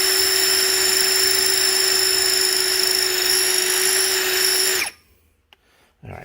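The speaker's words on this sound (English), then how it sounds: "Alright, that's all they're going to drill with that bit" A power drill bores through the exhaust reroute on an Onan generator in a 2022 Tiffin Allegro RV. Its loud, steady high whine runs for about five seconds, then cuts off and leaves near silence.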